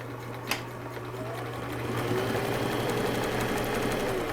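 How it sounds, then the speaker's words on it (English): A sewing machine runs a zigzag stitch along the hem of a fabric turban, a steady close mechanical whir with a constant low hum that grows slightly louder partway through, no talking. "So I'm going to go ahead and do a zigzag stitch on the hem."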